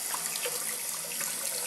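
Hot water runs steadily from a tap after a newly installed water heater, a continuous close splashing trickle with no voices.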